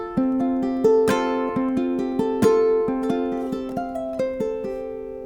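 Ukulele strumming and plucking the closing chords of a song, bright harmonic notes with a few strong strums, played close and alone with no talking.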